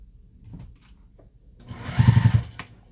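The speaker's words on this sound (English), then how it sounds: "we back stitched and sewed through those 2 pleats" A sewing machine stitches through the pleats of a fabric face mask, giving one short, close burst of rapid stitching after a quiet stretch.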